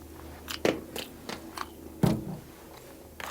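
Hard-boiled egg sprinkled with seasoned salt being bitten and chewed up close, a few crisp crunchy bites standing out over soft mastication sounds, with no talking.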